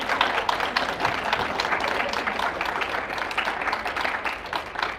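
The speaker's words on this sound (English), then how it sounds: "if you could give her a round of applause for her participation" An audience at a school superintendent search community forum claps for a participant, a dense, even round of applause at moderate level, with faint crowd murmur beneath.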